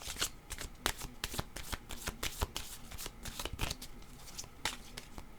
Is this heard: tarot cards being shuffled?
yes